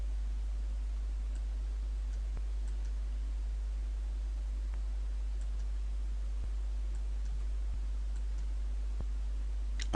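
Sparse, faint mouse clicks while working in property management software, scattered single ticks at irregular intervals over a steady background hiss.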